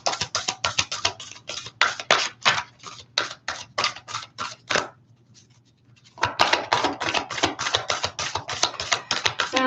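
Tarot cards shuffled close by, rapid crisp clicking bursts in a steady rhythm that pause briefly midway, then resume at the same brisk pace, with no talking.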